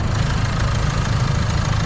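A Range Rover Evoque with the 2.2 engine idles at a steady, even rumble, heard close up and on its own with no talking over it.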